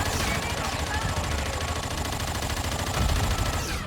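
Rapid, continuous rifle fire in Warzone, dense crackling shots with a voice talking underneath throughout.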